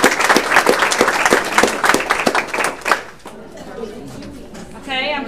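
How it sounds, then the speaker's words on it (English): A short round of applause at a Chamber of Commerce meeting, with clustered hand claps for about three seconds before fading out, followed by room murmur and brief speech. "please join me in giving her a round of applause"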